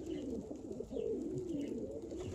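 Pigeons cooing from the Siyəzən flock, low soft continuous murmuring coos close by with no talk over them.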